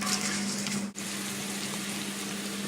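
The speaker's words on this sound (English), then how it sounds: "Seeds. Usual story. Until they kind of start popping." Seeds sizzling and frying in hot oil in a pan for a chicken curry, a steady close hiss with a brief dip partway through, no talking.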